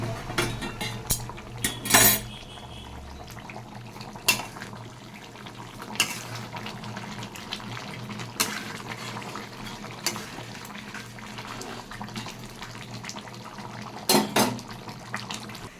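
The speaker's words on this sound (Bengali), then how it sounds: "মাংসটাকে ভালো করে কষিয়ে নেবেন।" Meat being stir-fried in a pot as it browns, with warm water added to it. Soft metallic scrapes and clinks of a spoon against the pot recur every few seconds over a low, steady background, with a couple of louder knocks.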